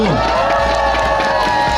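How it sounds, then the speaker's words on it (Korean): A Korean studio audience makes loud, dense crowd noise, with cheering and whooping over a steady wash of applause across a short two-second stretch. "왕자님 두 분께 일단 박수 한 번 보내주시고"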